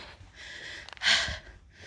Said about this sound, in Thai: แค่กิโลเดียวก็หอบแพ็กอะ